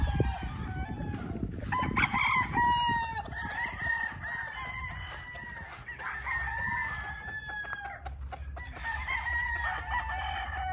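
A stag rooster crows among clucking chickens and pullets on a farm, with repeated crows rising over low, steady clucking and rustling at moderate distance.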